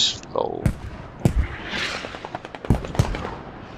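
Enemy mortar fire in a tactical shooter game: four or five sharp, loud blasts at irregular intervals with a rumbling spread between them, while a voice talks faintly underneath.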